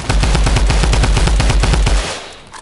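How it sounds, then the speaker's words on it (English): Rapid, evenly spaced gunfire in a video game, a loud burst of roughly twenty sharp shots in quick rhythm that stops abruptly and leaves a brief fading tail, with no voices over it. "You just got sniped at."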